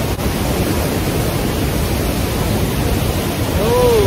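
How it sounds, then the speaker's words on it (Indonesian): Niagara Falls heard from directly beneath the falls: a steady, loud, broadband roar of crashing water that fills the whole clip without a break. "air terjun Niagara ini."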